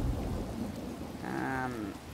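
Rain falls steadily in the video game Elder Scrolls Online, a constant wash of drops, with a brief low rumble and tonal swell midway.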